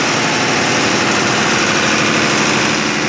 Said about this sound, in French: On va baisser le régime moteur.